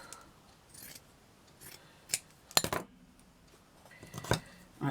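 Scissors snip through fabric while cutting out an oval shape, a series of sharp irregular metallic cuts and clicks, close and fairly quiet, with pauses between them and no talking.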